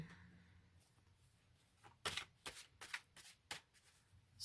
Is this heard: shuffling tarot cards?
yes